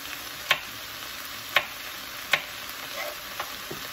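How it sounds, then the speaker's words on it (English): Food frying in a pan over lowered heat gives a steady, fairly quiet sizzle, broken by a few sharp periodic clicks like a utensil stirring or tapping the pan. "Let that stuff fry but not burn"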